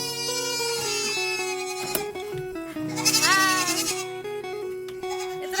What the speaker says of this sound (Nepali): म हजुरहरूलाई हाम्रो बाख्रा देखाउन चाहन्छु